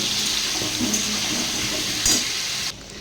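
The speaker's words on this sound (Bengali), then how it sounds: "তাই একটু জল দিয়ে দিলাম।" Water poured into a mixed vegetable curry in a pan, a steady hissing splash for a few seconds that cuts off abruptly near the end, close by with no talking.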